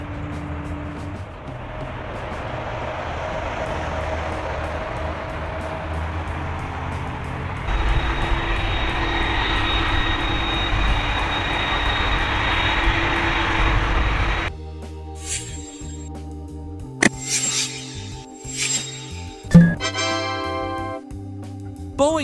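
Wide-body Airbus A330-300 jet engines roar steadily and loudly, shifting to a brighter tone partway through, then give way to sharper, intermittent mechanical and tonal sounds.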